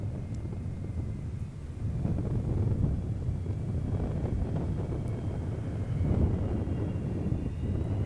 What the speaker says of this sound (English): Shuttle carrier aircraft returning to Kennedy Space Center for one final time.